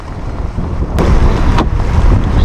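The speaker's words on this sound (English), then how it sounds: "There goes another bang from under the hull." Two dull thuds as a small yacht's hull hits the bottom, about half a second apart, heard over loud wind and water noise.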